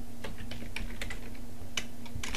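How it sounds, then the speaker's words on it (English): Fingers type a short search term on a computer keyboard, giving a quick run of close, crisp key clicks in uneven bursts over a steady low hum. "so I would type in reading"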